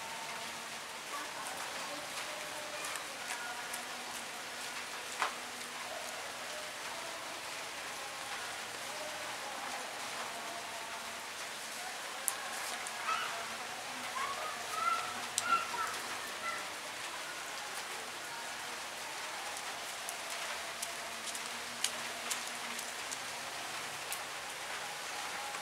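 Rain falls outdoors in a steady, soft patter with scattered louder drops, heard at moderate distance.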